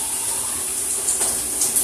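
Water is scooped and poured with a steady splashing rush, close by and fairly loud, with a slight swell near the end.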